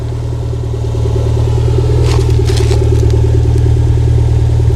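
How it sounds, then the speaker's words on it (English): Toyota MR2 GTS with a new custom exhaust idling and running, giving a steady, deep, low rumbling gurgle that stays loud and continuous throughout. "Here's that new exhaust."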